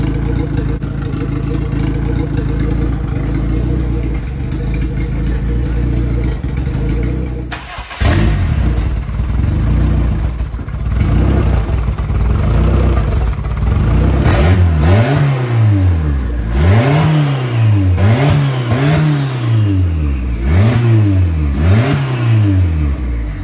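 An AWD sleeper build car's engine cranks and catches partway through, then revs again and again in rising and falling surges, loud and close, over a steady background hum.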